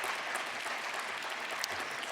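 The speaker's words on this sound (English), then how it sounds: "Let's have another round of applause for Ed." Steady applause from a conference audience at a petroleum industry event in North Dakota, a dense even wash of clapping holding at a constant level throughout, with no voices standing out.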